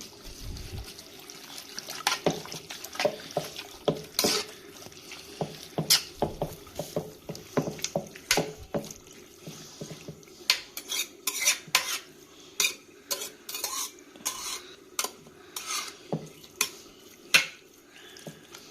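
A spoon scrapes and knocks against a pressure cooker pot while minced mutton with fenugreek, onion, salt and water is mixed, giving repeated close, rhythmic clinks and wet squelches with no talk.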